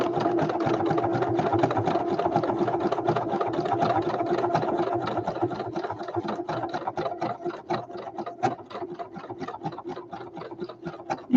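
A sewing machine stitches steadily along a fabric edge, a fast rhythmic mechanical chatter heard close and alone, slowing slightly and becoming more uneven toward the end.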